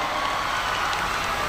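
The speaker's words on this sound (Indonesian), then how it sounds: "Oke, tepuk tangan dulu" Steady, broad applause from a student audience at a campus forum with a military general, a continuous wash of clapping held at even loudness throughout.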